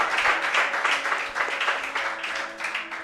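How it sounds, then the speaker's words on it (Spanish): A church congregation applauds, a faint but continuous patter of clapping hands that holds steady for about three seconds. "le damos un aplauso al Señor"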